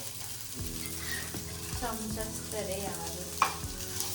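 A spoon stirs food in a hot, sizzling pan at home. The scraping comes in repeated close strokes over a continuous frying hiss, with one sharper clink near the end and no talking.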